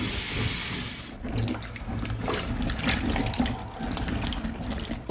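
Tap water runs steadily into a sink while a large batch of apples is washed, a continuous close splashing wash with a brief louder gush at the start.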